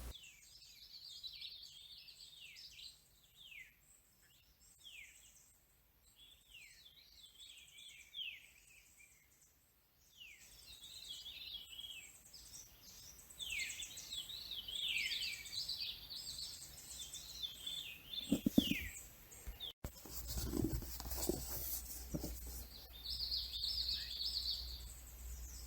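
Pet birds chirping indoors, a busy stream of repeated high tweets and calls, near and lively, continuing throughout with some handling noise and rustling later on.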